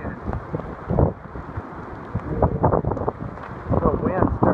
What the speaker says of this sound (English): The wind's starting to pick up a little bit